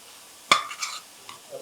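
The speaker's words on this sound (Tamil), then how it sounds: "கைவிடாமல் அப்படியே கலருங்க." A spoon scrapes once sharply against a pan while chana dal is stirred into hot sugar syrup for a Diwali ukkarai sweet, followed by a few softer scrapes and a faint sizzle.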